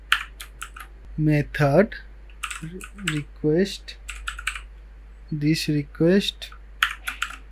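Computer keyboard typing while writing CodeIgniter4 form validation code: crisp, close key clicks in quick clusters, interleaved with someone talking.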